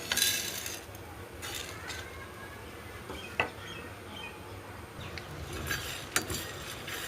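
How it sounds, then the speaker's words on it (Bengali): Whole spices for a sweet-sour-spicy hog plum pickle are dry-roasted on a hot tawa, with soft scraping stir strokes and a few light metallic clinks against a quiet background. "এবার এই মশলাগুলো গরম তাওয়াতে একটু গরম করে নেব"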